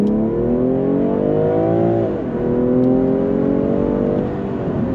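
A 2021 BMW M340i sport sedan accelerates hard on a road, its engine note climbing loud and close, dipping briefly as it shifts, then rising again.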